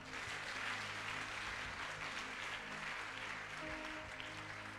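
Congregation applause filling a church service honoring Jesus, a steady, dense wash of clapping that holds at even loudness throughout, with no voices standing out above it.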